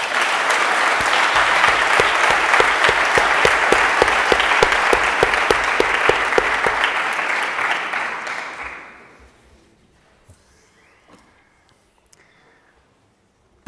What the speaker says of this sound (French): Merci d'applaudir Samuel Drahi.